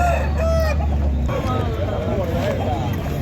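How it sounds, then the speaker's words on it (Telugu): Rooster at a Saturday Aseel chicken market in Mydukur, calling loudly amid other fowl clucking, with someone talking over the birds and market bustle behind. "పుంజు అయితే మంచి పట్టా పుంజు అండి."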